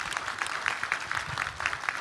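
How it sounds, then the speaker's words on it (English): An annual meeting audience claps in brisk, dense applause that holds at a steady moderate level for the full two seconds, with no talk over it. "So let's give Melissa a round of applause"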